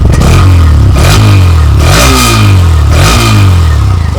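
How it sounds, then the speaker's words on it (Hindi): Hero Xtreme 125R motorcycle engine revving through its exhaust, with repeated loud throttle blips rising and falling in pitch over a steady idle, close to the microphone and with no talk. "लास्ट में हमें इस गाड़ी का एग्जॉस्ट नोट सुना दो"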